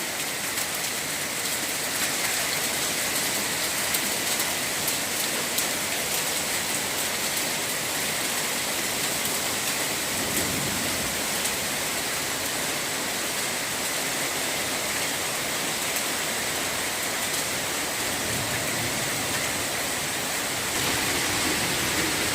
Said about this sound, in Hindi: मूसलाधार बारिश।